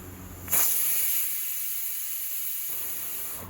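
A steady, loud hiss of escaping steam from a pressure cooker cooking jackfruit starts abruptly and continues without a break, sharp and airy like a cooker venting pressure.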